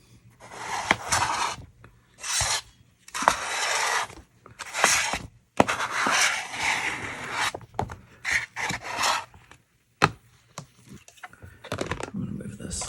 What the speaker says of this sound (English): we're going to take our scraper and scrape it off